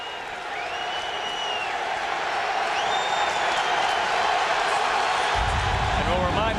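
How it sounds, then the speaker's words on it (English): A stadium crowd at a 1997 Buffalo Bills home football game against the Detroit Lions roars loudly and continuously, a dense wall of cheering with whistles and shouts rising near the end. "Listen to this crowd, Paul."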